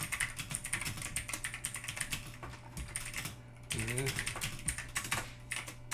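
Rapid clicking of computer keys, close and continuous, with brief pauses and a faint voice briefly underneath.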